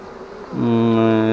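A honey bee buzzes close by at the hive, starting up suddenly and then holding a loud, steady, strongly tonal drone.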